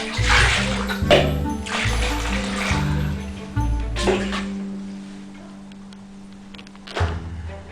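Water is poured out in splashing bursts to flush and wash a toilet, close and fairly loud, with a low hum and a few knocks in between.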